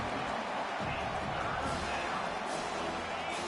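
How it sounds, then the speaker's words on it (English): A packed stadium crowd roars in a College Football 25 game, a steady, dense wash of cheering with no breaks, heard at moderate level like a distant wall of noise. "Listen to this crowd just shaking the girders of this place, trying to help their defense"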